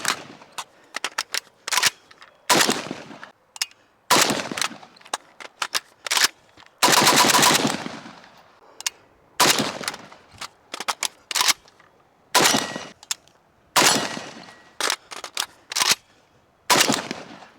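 Bursts of 5.56 AK rifle gunfire crack out loud and close, a dozen separate strings of rapid shots and short volleys with pauses between them, including one longer sustained burst.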